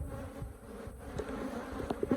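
Africanized honeybees swarm and buzz around a tarantula wasp, a steady close insect drone with brief louder bursts near the end.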